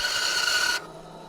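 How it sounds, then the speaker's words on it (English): Purpleheart wood being trimmed off a chisel and gouge sharpening jig, a brief close rasping buzz of cutting that stops suddenly after under a second, leaving quiet. "First, I'll trim off the excess purple heart."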